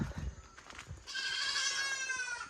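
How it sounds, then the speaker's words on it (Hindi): Goats bleat near a garden courtyard, a sustained wavering cry rising over quieter rustling and muffled background noise. "बकरियो सर बाजि रहल"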